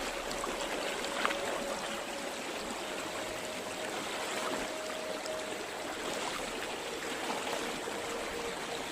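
A fast-flowing river rushes steadily and loudly as it is crossed, a broad continuous wash of water with no voices.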